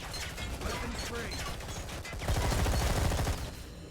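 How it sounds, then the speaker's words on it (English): Enemy soldiers in the video game Deep Black open fire from the left and front, producing dense, overlapping bursts of gunshots at close range that swell louder midway through and continue steadily. "we're being shot from both our left side and in front of us at the same time"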